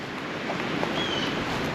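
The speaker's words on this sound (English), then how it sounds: "So wind is just whipping right off of there, coming up in here" Strong wind whipping across the open loess hills at a campsite, a steady roaring gust noise buffeting the microphone with no talk.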